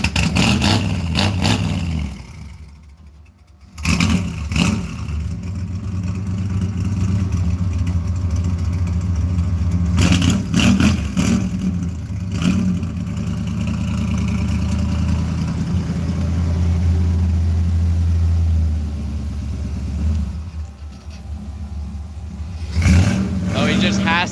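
Ford Mustang Mach 1 engine revving and pulling away a short distance, a loud mid-pitched rumble that swells in bursts and settles to a steady drone, with people talking over it.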